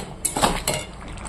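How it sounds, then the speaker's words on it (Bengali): Fried tangra fish tipped into a pan of cooked vegetables, with a few sharp metallic clinks and scrapes of utensils against the pan, close and brief, no talking. "এবার আমি এখানে ভেজে রাখা ট্যাংরা মাছগুলো দিয়ে দেবো"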